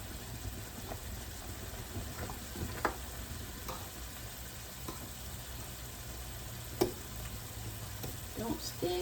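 Shrimp scampi cooks in a pan with a steady, low sizzle and frying hiss, broken by a few faint clicks and taps of a utensil, with no voices over it.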